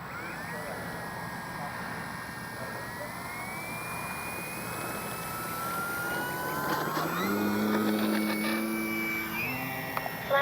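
A radio-controlled H-King Yak-11 model plane whines overhead, its engine pitch rising and shifting as it passes; a voice speaks briefly under the steady roar.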